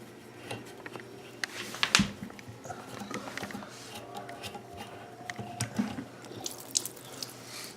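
Water splashes and trickles from a toilet fill valve as its supply line is disconnected, an irregular run of drips and splatters at moderate level with a few sharp clicks and knocks from handling the fittings.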